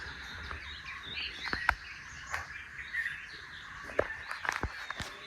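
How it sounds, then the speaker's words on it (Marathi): Wild birds call around a village backyard in the Konkan countryside, sharp chirps and whistles popping out at irregular moments over a steady hum of insects and frogs, with no voices. "इथे पक्ष्यांचा आवाज तुम्हाला येत असेल"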